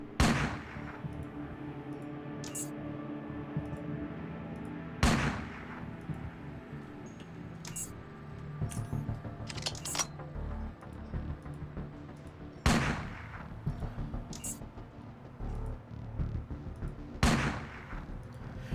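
Shotgun loaded with anti-armor ammo fires in the game Underrail, with about five loud, sharp blasts spaced a few seconds apart over a steady bed of game music and ambience.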